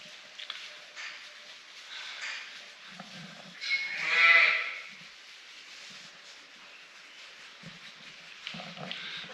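Sheep, new rams and ewes, on a farm give a single clear bleat in the middle against a quiet outdoor background, with faint scattered low animal noises around it.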